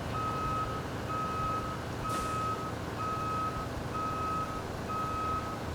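A crane truck backing up in the video game Road Craft sounds a steady series of evenly spaced reversing beeps over a loud, constant engine rumble, with a brief whoosh partway through.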